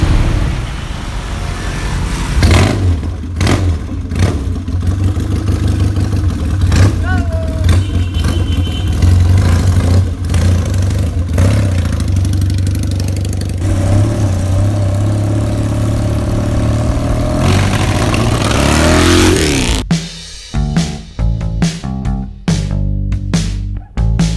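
A Yamaha XS650 cafe racer motorcycle engine rumbles loudly and steadily while riding, with revs rising and falling and a rougher idle near the end.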